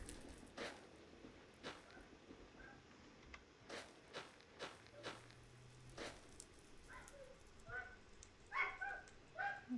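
A dog whines faintly in the distance, wanting to come back inside, with soft intermittent whimpers and yips scattered over quiet room noise during a Minecraft stream.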